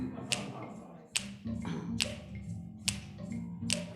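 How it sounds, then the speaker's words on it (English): A poetry-reading audience snapping fingers in time to a beat, five or so crisp, bright snaps at a regular pace, close by, with soft room murmur underneath and no talking. "So what I need you to do is snap your fingers with me."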